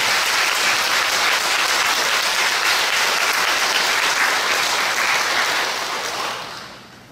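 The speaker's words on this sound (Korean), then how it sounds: "우리 교도님들께서 다시 한번 큰 격려의 박수 한번 주십시오" A temple congregation applauds, a dense, steady wash of clapping from many hands that holds for several seconds and then fades out.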